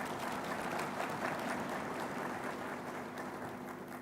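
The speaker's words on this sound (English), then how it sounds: "Would you join me to applaud" Audience applause at a UNIDO investment forum in Addis Ababa, a soft, distant, even patter of many hands clapping without pause.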